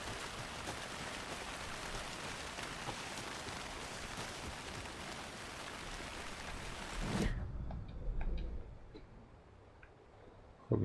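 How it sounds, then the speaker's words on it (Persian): Rain in the video game Alan Wake 2: a soft, steady hiss of falling rain for about seven seconds, then it cuts off abruptly, leaving only faint ticks. "بارونی گرفته."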